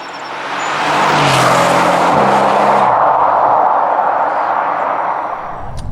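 A 2019 Mercedes-AMG C63 S launches hard and accelerates, its engine swelling quickly into a loud, sustained roar that holds for several seconds before easing slightly, with no talking.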